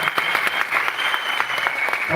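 Audience applause at an event in Kamarajar hall, a dense, steady burst of clapping from a crowd, close and loud for a couple of seconds.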